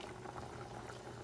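Water boiling in a pot on medium-high heat, a steady close bubbling and rolling simmer that continues without pause, with no voices over it.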